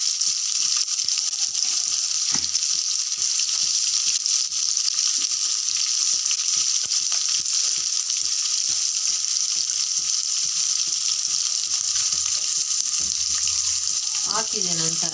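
Two thinly sliced onions frying in a pan for masale avarekalu, a steady close hiss and sizzle with occasional stirring scrapes, and a brief faint voice.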